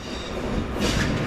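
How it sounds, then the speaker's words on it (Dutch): Eurocity passenger train from Milan passing through an Alpine region, a loud steady rumble of wheels on track with a brief bright burst of rail noise, no voices. "De Eurocity uit Milaan."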